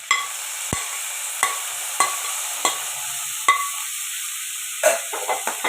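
Mint leaves sautéing in a pan for mint chutney, a steady soft sizzle broken by a series of sharp spatula scrapes and taps against the pan roughly every second, close and fairly quiet, with no talking.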